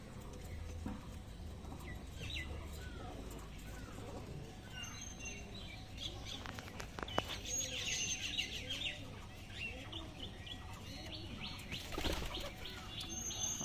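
Madras pigeons call inside a loft, with repeated soft rolling coos and scattered chirps at moderate distance over a quiet background hum, and a brief flutter of wings.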